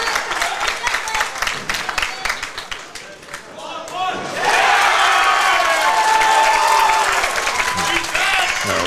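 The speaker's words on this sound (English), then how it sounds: "this crowd is way more engaged now. On both sides." Crowd at a high school bowling team final, with scattered clapping and chatter that swells into loud cheering and applause midway, cries and whistles rising above the roar.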